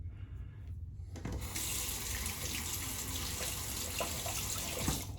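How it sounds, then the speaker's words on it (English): A razor is rinsed under a running tap, a steady loud gush of water with brief splashes and clinks as the blade is swished through the stream. "I rinse out that razor"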